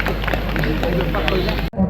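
An audience at the Nimapada Mahotsav festival, on its second evening, applauds a minister arriving on stage with dense, steady clapping from a large crowd, mixed with murmuring voices. The clapping cuts off abruptly just before the end.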